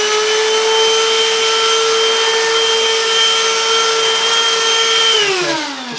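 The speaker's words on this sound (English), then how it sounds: "it's like a hoover, just run it down there." A handheld hoover sucking hair off the brush roll of a Neato robot vacuum, a loud steady motor whine held close, dropping in pitch as it winds down at the end.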